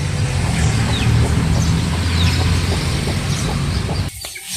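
Native chickens cluck and call on a farm with some brooding hens, loud and close, with scattered clucks over a steady background noise that drops off near the end.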